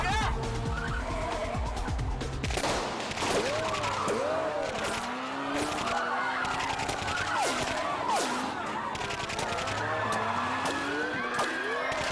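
Gunshots ring out during a car chase as sharp, repeated bangs over engines and squealing tires, with people shouting throughout.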